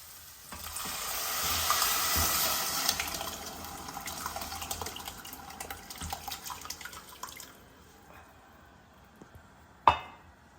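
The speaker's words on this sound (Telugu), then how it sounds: "ఇంకా దీన్ని కొంచెం మరగనిద్దామన్నమాట హైలో పెట్టాను" A pot of tomato rasam on high heat gives a steady hiss and bubbling that fades gradually, ending with a sharp metallic clink near the close, with no talking.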